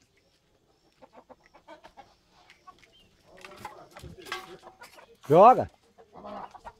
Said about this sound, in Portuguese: Vai tratar das galinhas?